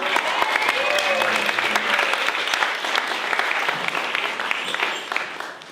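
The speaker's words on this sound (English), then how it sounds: "so so give Gracie a round of applause, please." Audience applause after a speech at an evening event, a dense, steady wash of many hands clapping close by for several seconds, tapering slightly at the end, with a few voices mixed in.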